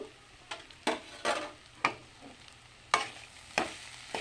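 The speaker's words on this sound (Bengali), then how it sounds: "এখন আমি আলুগুলি দিয়ে দেবো আরও কয়েক মিনিট নাড়াচাড়া করে নেব" Potatoes being stirred as they fry in a pan for singara filling, with about eight distinct scraping strokes of the spoon against the pan over a faint, quiet sizzle, close and irregularly spaced.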